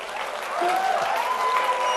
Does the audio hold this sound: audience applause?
yes